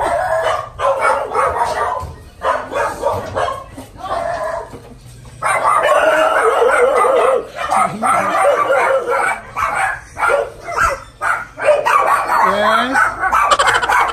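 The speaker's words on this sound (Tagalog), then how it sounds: "Ang dami aso." Many dogs barking and yipping at once in a constant, overlapping clamor, with a rooster-like crow mixed in and people talking underneath.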